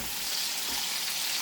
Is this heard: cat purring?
no